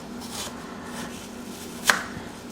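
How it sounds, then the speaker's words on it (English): An apple being thinly sliced with a paring knife, a single crisp cut standing out once against a low steady room hum, close and otherwise quiet. "I'm going to thinly slice it across"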